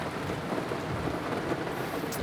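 Heavy rain with thunder in Lombok Timur: a dense, continuous downpour hissing over surfaces, with a low rumbling undertone running throughout and no voices.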